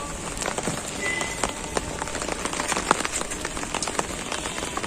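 Steady rain pattering on leafy garden plants such as spinach, with a dense continuous hiss and scattered sharper drops striking leaves close by, no voices.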